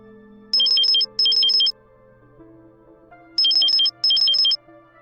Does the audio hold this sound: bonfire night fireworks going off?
no